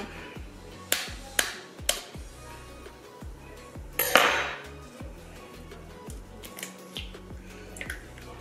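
Egg cracked open with a knife while baking brownies: a few light, close taps against the shell, then a sharper crack, over quiet kitchen background noise.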